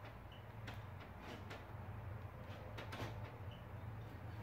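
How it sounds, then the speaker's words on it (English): A faulty door lock actuator inside a Saab car door makes a faint, low mechanical hum with several soft clicks and knocks over a few seconds, heard up close in a quiet setting. "So I definitely hear something going on in here. Yeah, I think internally something is going on with that door lock actuator."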